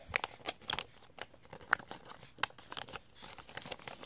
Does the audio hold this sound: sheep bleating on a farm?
no